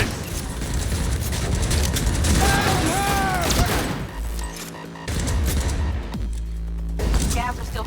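Rapid gunfire crackles through Cyberpunk combat, a dense, loud barrage of shots with mechanical clatter that fades briefly before picking back up near the end.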